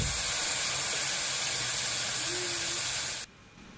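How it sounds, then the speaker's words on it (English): Food hitting a very hot pan sends up a loud, steady hiss that holds for about three seconds before cutting off abruptly. "Yes, you definitely heard that sizzle there."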